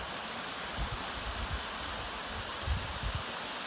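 Clear creek water running over a rock bed, a steady close rushing wash with soft low burbles and occasional gurgles, alone without voices.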